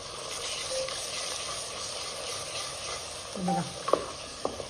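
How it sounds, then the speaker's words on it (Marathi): Masala paste for a rustic village-style chicken curry sautés in oil, a steady close sizzle with stirring scrapes and a few spoon knocks near the end; a brief word is spoken. "वाटण चांगलं त्याला चांगलं तेल सुटेपर्यंत त्या वाटणाला आपण परतून घेणार आहोत"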